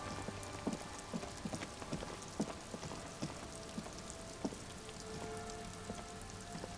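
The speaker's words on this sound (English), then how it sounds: "It's getting late, and it's raining." Rain falls steadily in the video game Disco Elysium, a soft continuous patter with scattered heavier drops tapping on surfaces, quiet and without talking.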